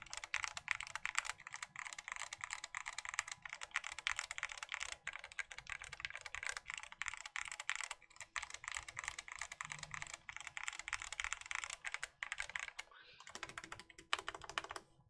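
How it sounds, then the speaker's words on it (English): Typing on an Orion 12 mechanical keyboard fitted with Nixie switches and Keymax keycaps, a steady dense stream of crisp, close keystrokes held near the microphone, quiet and continuous. "So this is Nixie switches, and this is Keymax keycaps"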